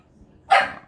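A feist dog, a southern Appalachian terrier breed, gives one short, sharp bark indoors, close and fairly loud after a moment of near silence.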